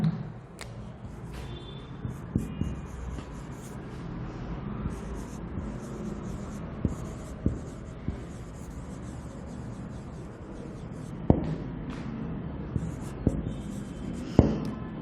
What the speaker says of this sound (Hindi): चलिए मैं नीचे लिख देती हूँ इसको